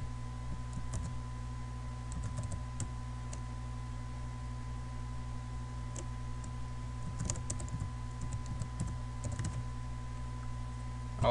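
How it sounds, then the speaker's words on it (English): Steady typing on a computer keyboard while entering text into Photoshop, with irregular clusters of key clicks over a constant low electrical hum, close and moderately quiet. "type it in"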